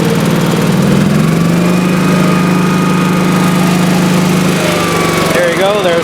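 A 1986 Honda HT3810 lawn tractor engine runs steadily and loudly while the tractor drives in first gear, with a constant droning hum that carries throughout.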